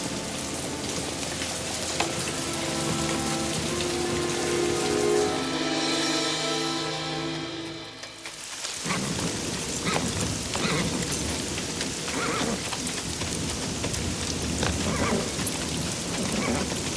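Heavy rain pours in a pirate adventure setting, a dense, steady hiss that swells in loudly about halfway through, following a passage of music.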